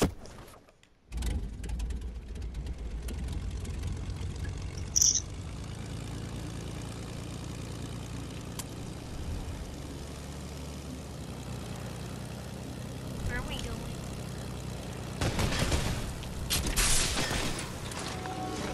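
A steady airplane engine drone from the video game Fortnite runs throughout, loud and continuous with brief bursts and swells, with no speech over it.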